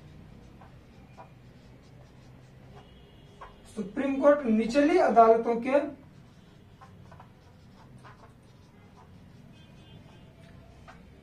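Chalk or marker writes on a board during a classroom lecture on the Supreme Court, a scratchy burst of strokes lasting about two seconds amid quiet room tone.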